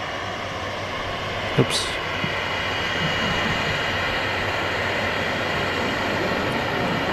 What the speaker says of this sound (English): great sound from this Ryanair from Alicante